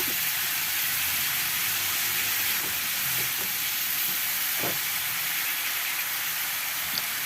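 Continuous sizzling of Sundanese oseng ase with green chili, shrimp paste, red chili and ground pepper frying in a pan, with occasional soft scrapes and knocks from stirring until evenly mixed.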